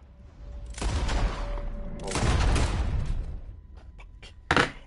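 Gunfire in the western game Red Dead Redemption 2: a couple of loud, blasting shot sequences with rumbling tails, followed by a sharp crack near the end, with no talk over it.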